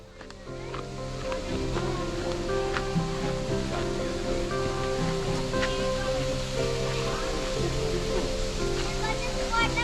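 Monsoon waterfall at Cherrapunji, a steady broadband rush of falling water that continues for the whole stretch with faint background sounds mixed in.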